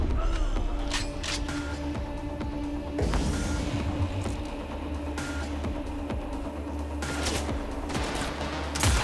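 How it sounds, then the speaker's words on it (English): Bursts of gunfire in a video game crackle in rapid volleys, sharp repeated shots in clusters with short pauses between, fairly close, over a low steady background hum. "Shots fired!"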